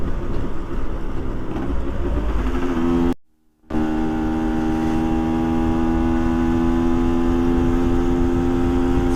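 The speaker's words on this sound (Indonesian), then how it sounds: "Suaranya bikin candu, terutama pas dikeber di RPM atas." A motorcycle engine revs high on a ride through Bali, a loud steady drone with strong harmonic bands that climb as the throttle opens, broken by one brief dropout.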